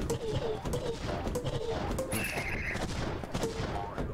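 Rapid bursts of gunfire from a dual stick shooter video game fire in a busy, continuous barrage, mixed with other chirpy game effects and played fairly quietly throughout.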